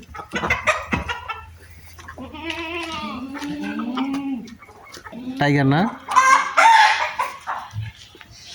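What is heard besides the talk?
improved breed chickens clucking and crowing on a farm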